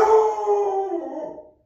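A dog lets out a single drawn-out howling bark close by, a sliding tone that trails away over about a second and a half with no talking.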